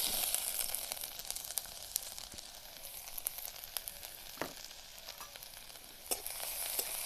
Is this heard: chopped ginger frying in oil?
yes